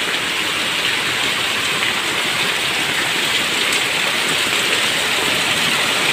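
Heavy typhoon rain pouring over flooded streets in the Philippines, a dense, constant roaring hiss of water at steady loudness with no clear voices.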